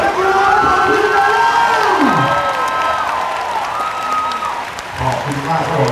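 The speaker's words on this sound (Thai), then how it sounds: "ขอเสียงปรบมือให้กับนักกีฬาทีมชาติ" Crowd applauds and cheers for national team rugby players at a youth under-14 rugby final in Thailand, with a loud, sustained mix of clapping, shouts and children's voices that stays fairly even throughout.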